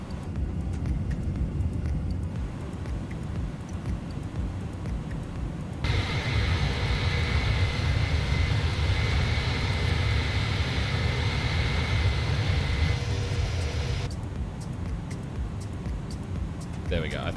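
A Cessna 310 engine drones steadily in Microsoft Flight Simulator, a broad continuous hum whose level and tone shift partway through, with a voice talking over it.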